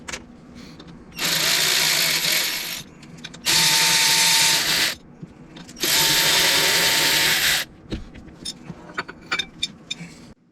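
A power tool removes three 10 mm bolts from an engine pulley during a pulley change. It gives three loud, sustained bursts, each lasting a second or two and separated by short pauses, followed by faint clicks and tool handling.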